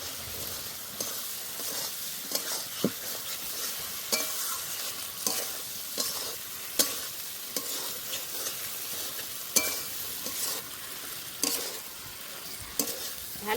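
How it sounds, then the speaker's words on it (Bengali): Pre-fried potatoes are stirred into a sizzling spice masala for a Bengali katla fish curry, a steady fry hiss broken by repeated scraping strokes of a spatula against the pan, no speech. "ঠিক এই সময় দিয়ে দেবো ভেজে রাখা আলু। আবারও কিছুক্ষণ কষে নেব।"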